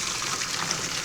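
Liquid for vegan mint jelly is poured slowly, a steady soft trickle running without a break over about a second, with no voices.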